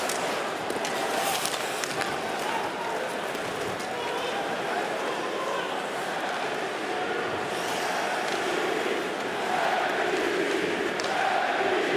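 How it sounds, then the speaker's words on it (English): Hockey crowd in Toronto chanting MVP for Austin Matthews during a game against Washington, a sustained, loud wash of many voices with a commentator talking over it. "With the MVP chant coming out for Austin Matthews"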